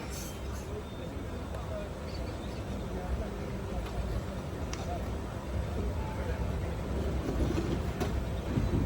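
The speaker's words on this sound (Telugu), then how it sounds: "ఇప్పుడు మనకి అటు నుంచి వచ్చే నేత్రావతి ఎక్స్ప్రెస్తో క్రాస్ ఓవర్ ఉంటుంది." Inside the Netravati Express sleeper train on a nonstop Konkan Railway stretch, a steady close rumble of wheels and carriage runs throughout, with faint sharp clicks at intervals.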